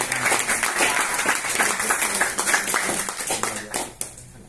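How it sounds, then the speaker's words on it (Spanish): Church audience clapping in sustained applause, dense and steady for about four seconds before tapering off, with a murmur of voices underneath. "Come on, clap for Jesus."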